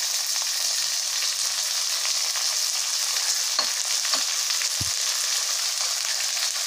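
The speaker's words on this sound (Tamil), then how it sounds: "கேரட் போட்டாச்சு, பீன்ஸ் போட்டுடலாம், கேப்சிகம் போட்டுருவோம்" Carrot, beans and capsicum frying in a pan for bisibelabath, a steady close sizzle throughout with a few soft knocks as pieces drop in.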